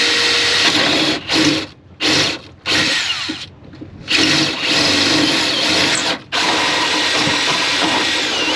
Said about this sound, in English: Drilling holes in the boat.